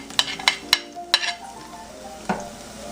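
Celery frying in a pan, a soft sizzle under several sharp clacks and scrapes of a utensil stirring against the pan in quick, irregular bursts.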